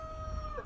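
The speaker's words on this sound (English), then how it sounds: "Oh, roosters." A short, faint rooster crow, a sustained tonal call that bends at the end, heard alone.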